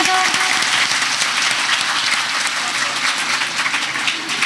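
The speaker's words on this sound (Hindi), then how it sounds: "तो चलो कौन कौन छत्तीसगढ़ी है एक बार जोरदार ताली बजा दो।" Loud, dense applause from a live stage-show audience in Parhda, Chhattisgarh, a steady wash of many hands clapping together for the whole stretch, close and sustained, with faint voices mixed underneath.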